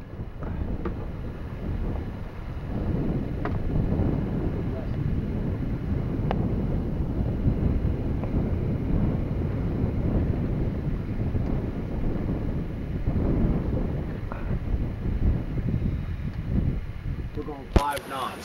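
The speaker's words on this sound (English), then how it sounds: "This is the first time since we bought it, Dave Weicker and I, that we've had it out under sail" Wind rushing over a Westsail 42 sailboat under sail on the southern Chesapeake Bay, a loud, steady roar with low buffeting against the microphone that lasts the whole time and ends in a sharp knock.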